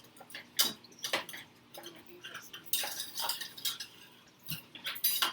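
A utensil clinks and scrapes against a bowl while breaking up brown sugar chunks, in irregular bursts of close, bright taps and scrapes with short pauses between them.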